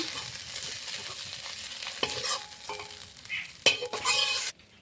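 Prawns frying in a pan until reddened, a continuous sizzle with stirring scrapes and a few sharp clinks near the end, close and moderately loud before cutting off abruptly.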